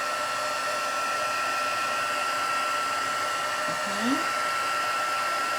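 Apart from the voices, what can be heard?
heat embossing tool blowing hot air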